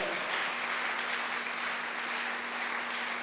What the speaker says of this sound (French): Est-ce qu'on ne peut pas entendre des acclamations, même vous qui suivez au loin?